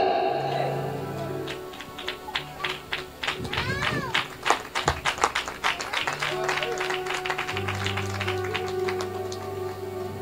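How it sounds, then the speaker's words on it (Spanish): A church congregation claps during a sermon, irregular sharp slaps spreading over several seconds at moderate distance, mixed with crowd noise and background keyboard music. "Que Dios reciba esos aplausos"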